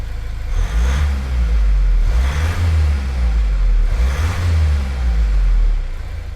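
A Mazda 3 car engine in Gran Turismo 7 hums and revs in repeated swells, a steady mid-pitched motor sound rising and easing back, with no talking.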